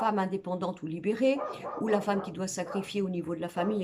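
A dog barks repeatedly in the background of a home setting, its sharp yaps mixed under a woman's steady French speech.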